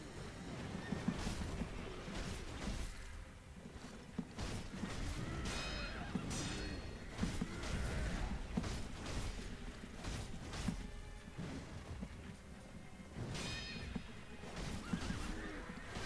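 A horse whinnies repeatedly during a boss fight in the video game Sekiro, its loud neighs rising over clip-clopping hooves, sharp weapon clashes and continuous game background sound.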